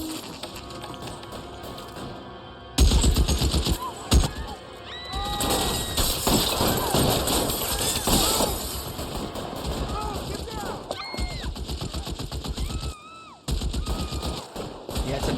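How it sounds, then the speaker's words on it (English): Bursts of BAR automatic rifle fire in LA Noire, loud rapid fusillades in several volleys with short gaps, mixed with crashes and other game noise, voices speaking amid the shooting. "Yeah, it's a BAR he's firing."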